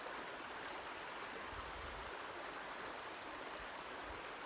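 Steady rushing flow of a trout-stocked mountain creek near Andrews Geyser by Old Fort, North Carolina, a broad continuous wash of water noise with no voices, fairly distant and even throughout.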